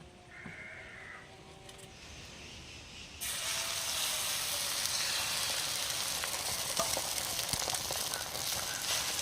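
An egg with onion and green chilli frying on a hot stone outdoors, a steady close sizzle that grows louder partway through, with faint birdcalls in the background.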